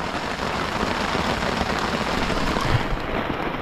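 Steady rain pouring down at a campsite, a dense, continuous hiss of drops drumming on surfaces with no pauses, close and fairly loud throughout.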